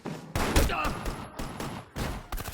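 Bursts of rapid gunfire crackle amid a loud, busy film soundtrack mix with rising music, several volleys in quick succession.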